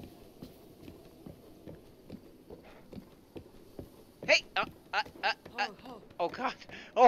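Horse hooves clip-clop at a steady walking rhythm in the video game Breath of the Wild, faint under a talking voice before louder, sharper bursts of sound take over.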